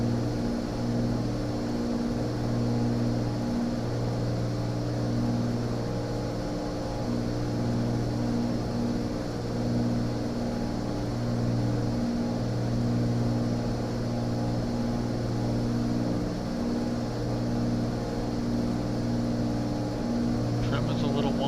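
Propeller aircraft engine in Microsoft Flight Simulator 2024, a steady droning hum with a strong low tone that runs unbroken and loud throughout, with a voice talking over it.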